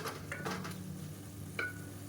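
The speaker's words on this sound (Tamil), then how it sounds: "இப்போ இதையும் சேர்த்து நல்லா அந்த எண்ணெயில் வதக்கி விட்டுக்கலாம்" Chilli powder sizzles in hot oil while being stirred for a mushroom biryani, a soft steady crackle with a few scraping strokes of a spoon in the pan.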